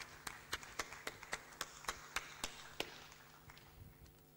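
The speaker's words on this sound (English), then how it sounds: "can you give them all a round of applause?" A small conference audience at an Africa climate change event claps for the panelists, about a dozen evenly spaced hand claps that fade after a few seconds, fairly faint and distant.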